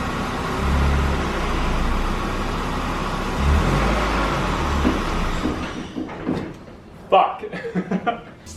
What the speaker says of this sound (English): Still getting used to driving this car.